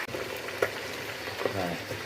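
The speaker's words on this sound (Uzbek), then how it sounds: "Mana o'sha sariyog'da qovuryaptilar adamlar buni" Chicken wings frying in plenty of foaming butter give a soft, continuous sizzle and crackle, fairly faint and steady throughout with a couple of small pops.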